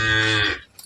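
A cow gives a single loud, close moo that holds steady for about half a second, then breaks off into near silence.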